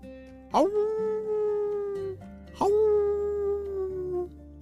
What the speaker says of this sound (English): The sound of the wolves howling was from very far away.